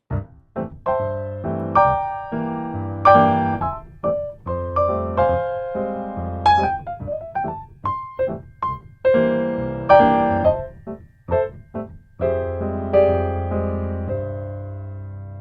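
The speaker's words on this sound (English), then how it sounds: "This is called stride piano." Solo piano plays in a bouncing stride pattern, low bass notes alternating with chords in a steady, lively rhythm, with a melody on top.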